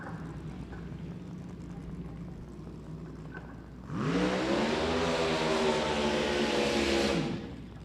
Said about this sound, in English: More Junior Fuel cars coming your way.